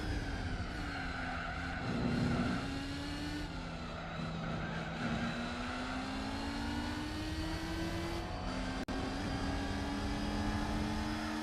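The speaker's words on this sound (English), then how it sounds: "All the engine sounds for the Elise suck" A Lotus Elise engine in the video game Gran Turismo 4, a thin, buzzy whine with steady tonal harmonics, stepping up through gear-like pitch shifts at an even level, alone with no talk.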